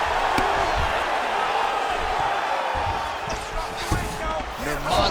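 In the UFC 5 video game, an arena crowd roars steadily at a fight between Khabib Nurmagomedov and Caio Borralho. The dense cheering stays loud throughout, with a few thuds and a voice talking over it.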